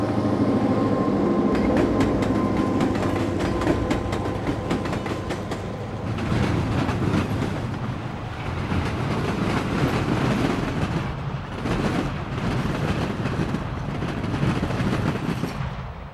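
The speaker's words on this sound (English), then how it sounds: "A Chesapeake and Ohio unit leads a B&O freight south at Vickers Junction." A Chesapeake and Ohio diesel unit leads a southbound B&O freight through a junction, with steady rumbling engine noise and rhythmic clickety-clack of railcars rolling past over jointed track, loud and close throughout.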